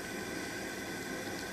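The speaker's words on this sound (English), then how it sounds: "So the water's boiling pretty good right now" A pot of water mixed with peroxide at a rolling boil gives off a steady, faint hiss and bubbling that stays even throughout, with no voices.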